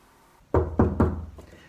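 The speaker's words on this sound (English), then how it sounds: "Sophia went up the stairs and knocked." Three firm knocks land in an even rhythm on a door at the top of a flight of stairs, close and fairly loud, with quiet room tone around them and no talking.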